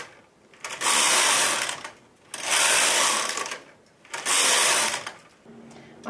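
A knitting machine carriage swept across rows of fern lace with needles in work, three loud raspy whirring passes separated by short quieter pauses, close and alone.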